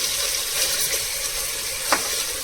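Chicken pieces coated with chilli, salt, coriander powder and turmeric fry in a pan for a coconut milk chicken pulao, giving a steady close sizzle and crackle with a brief stirring scrape.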